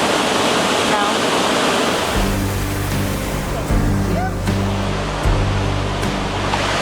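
Water pours steadily over limestone terraces in the Grand Canyon, a loud, close, unbroken roar. About two seconds in, a low droning hum joins beneath it.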